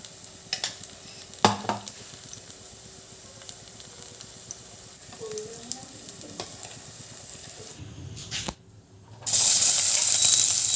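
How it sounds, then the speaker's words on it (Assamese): Small masoor dal fritters frying in oil in a kadai, a soft sizzle with scattered scraping and stirring clicks, ending in a loud sudden rush of hissing steam. "কেৰাহীত তেল দি সৰু সৰুকৈ মচুৰ দাইলৰ বৰ বনাই ল'লোঁ।"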